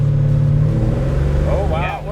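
A 1967 Chevy II Nova with a 327 V8 idles with a steady rumble, then revs up with rising pitch near the end, loud and close, while people talk over it.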